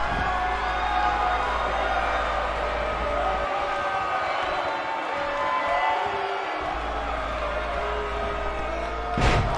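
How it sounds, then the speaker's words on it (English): A wrestling crowd in Newcastle gives a steady, mixed roar through a tag team match, with a low rumble beneath and a sharp thump near the end. "Mixed reaction from the crowd."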